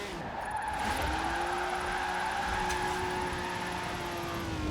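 A car drifts and skids in Forza Horizon 4: a sustained, loud tire squeal rides over a steady engine drone, holding continuously for several seconds.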